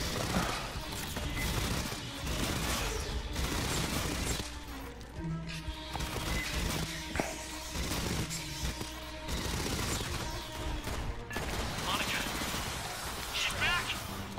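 Gunfire from the Aliens: Fireteam Elite video game, with dense bursts of automatic shots and crashing impacts rolling over a steady loud game soundtrack through the whole stretch.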